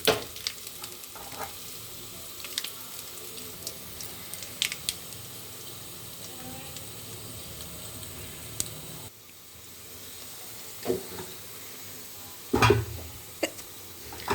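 Cumin, garlic and turmeric for rasam fry in oil with a soft, crackling sizzle, interrupted by scattered stirring clicks and a louder splash of sizzle near the end, close and free of talk.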